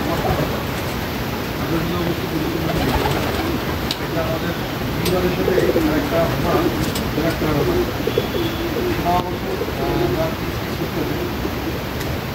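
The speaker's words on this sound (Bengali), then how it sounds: "এই যে বাইরে এক পর একটা কবুতরের পিস পিস সে ছুটতেছে" Golla pigeons coo in repeated soft low calls over steady outdoor background noise, with a voice talking at times.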